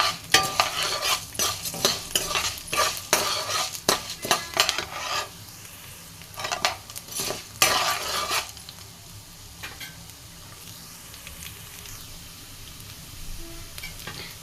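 Dry-roasting peppercorns and coriander seeds in a pan, a spoon scrapes and rattles in quick rhythmic strokes over a faint sizzle, busy at first and then easing to softer, sparser stirring.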